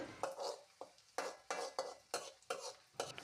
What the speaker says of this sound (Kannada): ಈಗ ನೋಡಿರಿ, ಎಲ್ಲ ಚೆನ್ನಾಗಿ ಫ್ರೈ ಮಾಡಿಕೊಳ್ಳಿರಿ ಎಣ್ಣೆ ಒಳಗೆ.